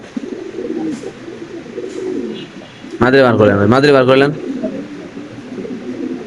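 Lahori pigeons coo in low, continuous rolling murmurs, close by, while someone talks loudly over them for a stretch in the middle.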